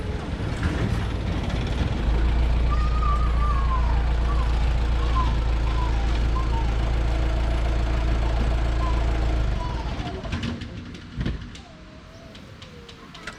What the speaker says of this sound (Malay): kelihatan lori peraih telah datang tepat pada jam 8 pagi